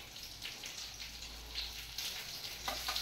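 Green chili paste hitting hot oil in a frying pan, with the potol (pointed gourd) dish in progress, giving a steady close hiss with crackling bursts that flare up near the end.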